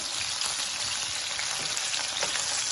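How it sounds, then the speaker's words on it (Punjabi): Boiled potatoes shallow frying in hot oil over a low gas flame, a steady dense sizzle and crackle throughout, close and continuous with no voices. "ਇਹਨਾਂ ਨੂੰ ਆਪਾਂ ਸ਼ੈਲੋ ਫਰਾਈ ਕਰਨਾ ਹੈ ਉਦੋਂ ਤੱਕ ਇਹਨਾਂ ਨੂੰ ਫਰਾਈ ਕਰਾਂਗੇ"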